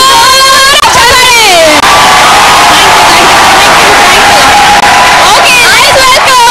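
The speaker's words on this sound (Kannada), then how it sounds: "ಎಲ್ಲರಿಗೂ ಒಂದು ಜೋರಾದ ಚಪ್ಪಾಳೆ" A large audience at a music show finale with star singer finalists cheers, whoops and shouts loudly and continuously, with excited voices rising above the roar throughout.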